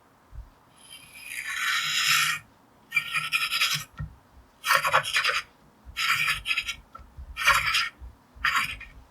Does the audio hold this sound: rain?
no